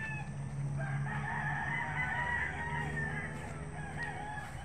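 Fighting roosters crow repeatedly, one long cock-a-doodle-doo overlapping another, fairly loud and close against a steady outdoor background with no talking.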